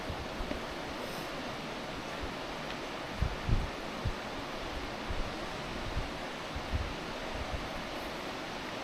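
A waterfall in the Chachapoyas region of Peru gives off a steady, broad roar of rushing water, continuous and fairly distant, with occasional low wind buffets against the microphone and no talking.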